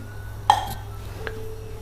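A metal lid is set over a pan of pizza bread on the stove, giving one sharp clink followed by a fainter ringing tap, close and clear over a low steady hum.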